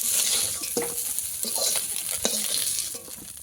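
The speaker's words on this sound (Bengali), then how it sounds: "প্রত্যেকটা মাছ আমি এক একটু করে উল্টে দেবো" Amodi fish fried in a pan and turned piece by piece, with a steady loud oil sizzle broken by several short scraping and clinking spatula turns.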